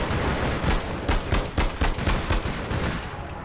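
Rapid video game gunfire in APB Reloaded, a loud burst of sharp shots in quick succession with a brief pause and a few trailing cracks.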